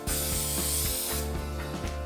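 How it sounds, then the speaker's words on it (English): A steady hiss of cooking spray onto a loaf pan close up, with faint metallic clicks and rattles underneath, lasting a couple of seconds. "You want to spray this."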